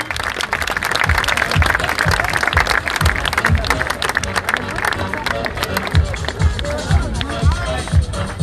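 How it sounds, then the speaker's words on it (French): A crowd at a stunt show in Angoulême applauds the performers and the driver, dense clapping mixed with scattered cheers and loud speech over a public address system throughout. "Et on pourra applaudir le pilote et réalisateur du Red Boss, Alexandre Batour."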